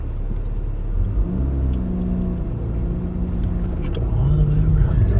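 Car driving slowly around a roundabout with a learner at the wheel, its engine a low steady rumble that swells as it accelerates, with voices talking inside the cabin.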